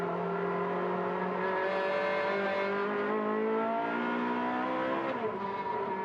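A 4,400 cc race car engine, heard on board at the Mugello circuit, holds a loud sustained roar that climbs steadily in pitch through the gears, then drops sharply near the end before building again.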